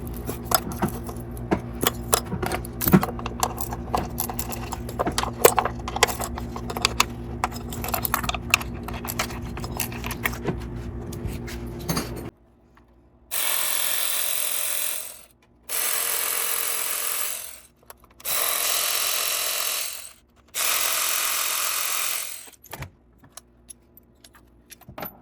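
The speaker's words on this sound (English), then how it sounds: "Go ahead and get out these bolts right here and go ahead and pull out your ignition coils." Ignition coil bolts come out of a 2017 Ford Escape 2.5L engine using an 8mm socket on a small wobble extension: a stretch of light metallic clicking and tool handling, then four separate whirring bursts of a power tool, each a couple of seconds long.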